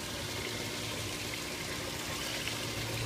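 Waste water from the bottom of a fish tank, carried up through a radial flow filter setup, gushes steadily out of a pipe, a dense, even splashing rush that stays close and constant throughout without any voices.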